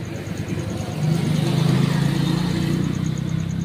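The motor of a Eureka twin-tub washing machine runs on its own with a steady tonal hum. It grows louder after about a second and holds there, close by, with no talking.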